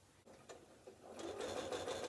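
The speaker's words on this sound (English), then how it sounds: "we can just stitch that shut." Sewing machine stitching closed the open seam of an oven mitt lining, a steady motorized whirring that builds in loudness and runs continuously, close and alone.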